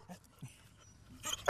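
Dogs at Dog Mountain in St. Johnsbury, Vermont, give a few short, faint whimpers and yips outdoors, with a brief louder rustle at the end.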